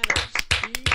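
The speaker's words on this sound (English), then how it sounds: "Do you need some more clapping?" Quick hand claps during a game session among friends, about five sharp claps close to the microphone in uneven rhythm, with a faint voice underneath.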